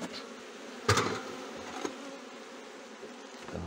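Honeybees buzz steadily throughout a hive inspection, a continuous insect hum with a brief louder rustle near the start and a soft knock later on.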